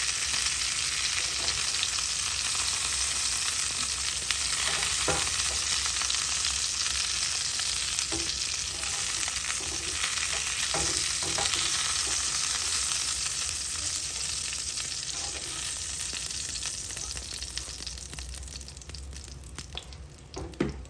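Lamb chops fry in a hot pan with butter, a steady dense sizzle that holds loud throughout and eases slightly near the end, with occasional faint clinks and stirring noises.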